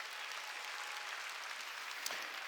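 A congregation claps together during a Korean Sunday church service, a steady, dense wash of applause that holds evenly for a couple of seconds.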